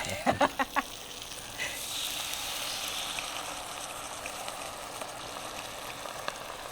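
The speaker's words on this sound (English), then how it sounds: "we're going to deglaze now. So Italian cuisine, we're going to use Italian wine this time" A T-bone steak braising pan is deglazed with Italian wine, giving a few sharp crackles at first and then a steady soft sizzle that carries on throughout with no talk over it.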